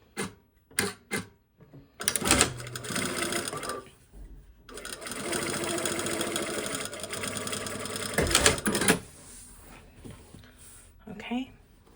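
Domestic sewing machine stitching the seam allowances of a lining to the facing beside an invisible zipper, running in several bursts of steady mechanical whirring with short pauses between, up close, and quiet handling noises around it.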